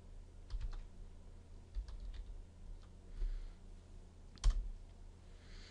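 Soft clicks from typing on a computer keyboard, with scattered keystrokes and a few louder taps spread over several seconds, heard close and fairly quiet with no talk.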